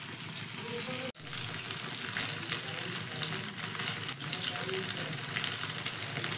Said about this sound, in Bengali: আমি এবার পনিরগুলো একে একে দিয়ে ভেজে নেব।